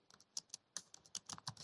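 Fingers tap out quick, uneven bursts of keystrokes on a computer keyboard, close and crisp, with no talking.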